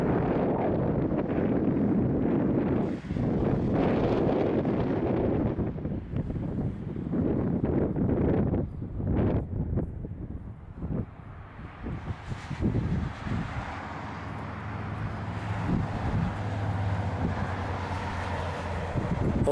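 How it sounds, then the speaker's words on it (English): Gusty wind buffets the microphone outdoors at an abandoned ballroom, loud rumbling blasts rising and falling throughout, with a steadier hiss and low drone in the latter half. "And it is windy"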